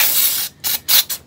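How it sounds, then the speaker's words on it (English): Close, loud hissing bursts from an aerosol can of carburetor cleaner sprayed onto a 1967 Evinrude outboard's carburetor bowl: one long spray followed by several short, quick squirts in a choppy rhythm. "Take the bowl, spray her down with the carb cleaner."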